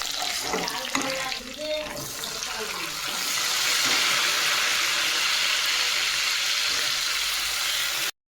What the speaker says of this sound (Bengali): প্রথমে একটু বেগুন ভাজবো